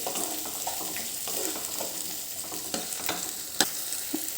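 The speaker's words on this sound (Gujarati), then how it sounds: "એની અંદર એક નાનું ટામેટું મેં કટ કરીને લીધું છે તૈયાર કરીશું એને પણ આપણે એક જ મિનિટ સુધી શેકીશું" Chopped tomato sautéing in a pan while making dry moong dal, a soft continuous sizzle with repeated light stirring clinks and scrapes, fairly quiet and without any voice.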